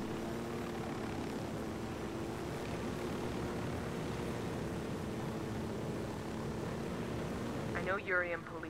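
A steady airplane engine drone plays in Ghost Recon Wildlands, a continuous low hum that holds until a short burst of other sound near the end. No speech comes through clearly.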